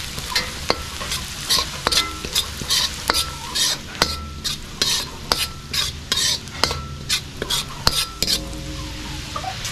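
Chopped garlic sizzles in melted butter in a pan, a close, busy crackle broken by frequent scraping stirs and light metallic clinks of a utensil against the pan.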